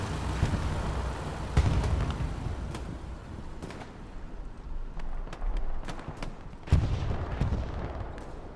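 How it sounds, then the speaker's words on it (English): Anti-tank gun firing during a Hell Let Loose match, heavy booms standing out from a steady backdrop of scattered gunfire and distant battle rumble. "AT gun shooting."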